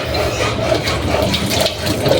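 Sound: water from a tap

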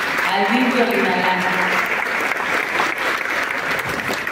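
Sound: applause for the DIF Olinalá

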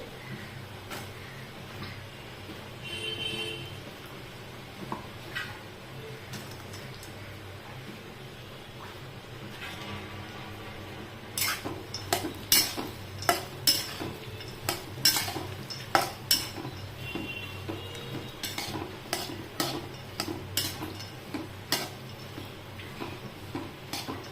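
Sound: almonds being dry-roasted and stirred in a pan

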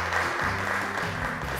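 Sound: applause

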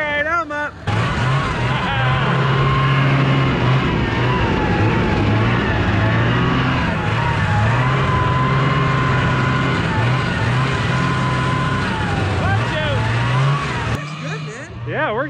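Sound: car driven hard, engine revving

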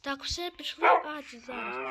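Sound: dog barking in Minecraft video game

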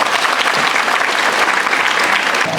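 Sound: applause for the school audience

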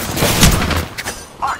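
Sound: gunfire in the Apex Legends video game

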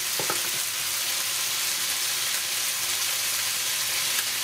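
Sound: beans and corn sizzling in a pot

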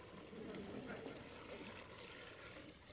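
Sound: water poured over fish bones for stock

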